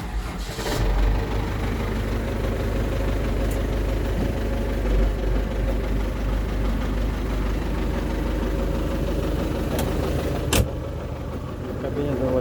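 A 2013 MTZ 892 tractor diesel engine idles steadily after starting, a loud low rumble running the whole time with a brief knock near the end, and a voice talks faintly over it.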